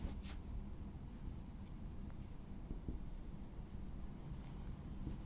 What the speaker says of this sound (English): So what I am writing, see on the board